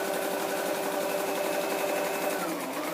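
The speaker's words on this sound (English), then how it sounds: "I've just done that stitch across the top" A lightweight sewing machine runs steadily for the full three seconds, stitching a seam across the top of scrapbook material with a continuous close, even mechanical whir and no pauses.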